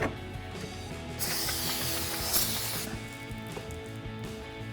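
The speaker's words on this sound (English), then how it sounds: "I've got brake clean and a clean microfiber so I can spray this down and wipe it." Brake cleaner sprays onto a Dodge Challenger brake rotor in a hissing aerosol burst for about two seconds, preceded and followed by quiet mechanical clicks and rattles.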